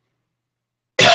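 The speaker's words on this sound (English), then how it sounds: "Sorry about this cough." A single short, harsh cough from a person with a lingering cold, close and loud, bursting out abruptly after silence.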